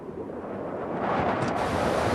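Steady wind roars and buffets the microphone, a broad rushing wash that swells slightly louder toward the end, with no voices over it.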